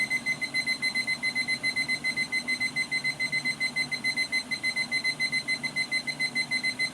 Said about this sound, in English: now we're just going to set the timer. Let's go up to 75.